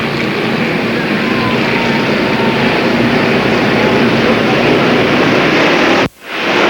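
Spectator stock cars race on a track, a loud continuous roar of engines filling the air before cutting off abruptly near the end.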